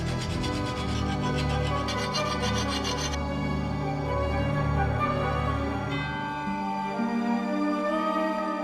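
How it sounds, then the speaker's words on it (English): A hand file finishing the bevel on a blade cut from porous scrap steel plate, rasping in steady back-and-forth strokes for several seconds, close and loud with no talk. "the file is great for finishing the bevel to make it nice and clean"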